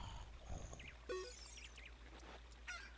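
A cucco chicken in the Zelda Ocarina of Time video game squawks in several quick, honking clucks, quiet and scattered across the moment with no talk.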